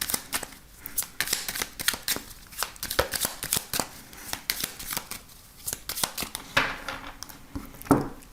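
Tarot cards being shuffled and cut in a French daily card reading, a dense run of quick papery riffles and flicks at close range with uneven rhythm, with no voice over them.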